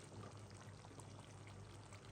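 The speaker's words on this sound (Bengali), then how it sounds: "একটু নাড়িয়ে আমি 1 চামচ ঘি দিয়ে দিব।" Ghee poured into a pot of roast curry, a continuous soft pouring and sizzling hiss that stays steady and close throughout.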